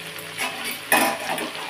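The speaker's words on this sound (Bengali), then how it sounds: "তখন মশলাটাকে ঢেলে দিচ্ছি।" Ground spice paste of ginger, garlic, chili and onion hits a hot pan with a brief burst of sizzling and clatter, then settles into a soft frying hiss nearby.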